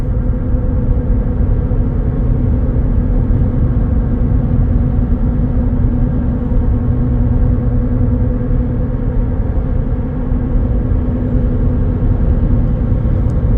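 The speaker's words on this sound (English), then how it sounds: "anytime you have an aggressive tire, you're gonna have some road noise" Steady, loud road noise inside a vehicle running on aggressive Falken Wildpeak R/T hybrid terrain tires, a constant low droning rumble with tire hum and no talking.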